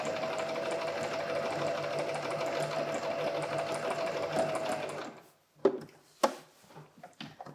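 A sewing machine stitches a repair on jeans, running in a steady, close, continuous whir for about five seconds, then stopping, followed by a few sharp clicks and knocks.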